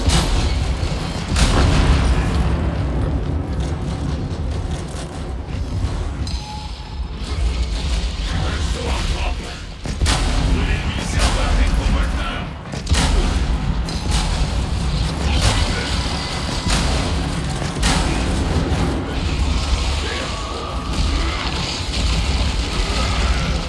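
Sustained gunfire and heavy booms during a Space Marine 2 chainsword battle on Hive Tyrant, mechanical clatter and blasts continuing densely throughout, loud and close.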